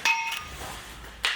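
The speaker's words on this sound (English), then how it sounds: "There's the bell." Two metallic bell clangs ring out at an arnis bout, the first sounding bright and ringing, the second about a second later, with a low rumble of the hall between them.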